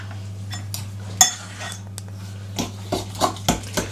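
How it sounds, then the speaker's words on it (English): Banana bread cupcake batter being mixed by hand in a bowl, with a spoon or whisk knocking against the sides in irregular clinks and scrapes over a steady low hum, close and fairly clear. "Again, hand mixing. Yep, all hand mixing."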